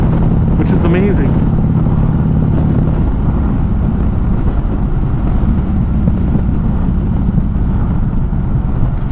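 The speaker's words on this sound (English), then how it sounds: "POV riding videos with me on my Tri-Glide Ultra" Harley-Davidson Tri-Glide Ultra trike heard from the rider's seat, a steady loud engine rumble mixed with heavy wind rush throughout, with a brief voice near the start.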